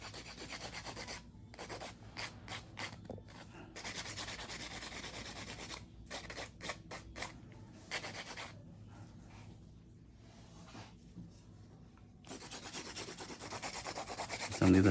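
Fingernails are smoothed with a hand file in long stretches of soft, close scraping and rubbing, broken by a few brief pauses, with no voices.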